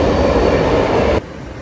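A train arrives at a station, a loud, dense rumbling roar of wheels and cars that cuts off abruptly to a quieter rumble near the end, with no voices.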